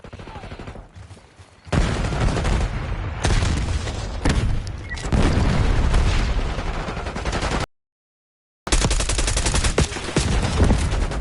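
Video game gunfire in rapid bursts and sustained volleys of shots, loud and close, dropping to near quiet briefly before resuming, then cutting out for about a second before another barrage.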